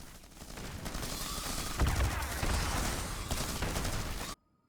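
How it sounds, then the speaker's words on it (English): Dense, sustained gunfire from a firefight in the real-time strategy game Starship Troopers: Terran Command. It is a continuous roar of overlapping shots at steady volume that cuts off abruptly at the end. "Gunfire ahead. That must be our guys in need of help."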